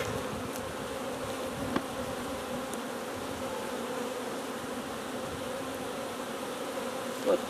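Agitated honeybees buzzing at an open hive during an inspection, a continuous dense hum at moderate level with a few brief louder passes close by.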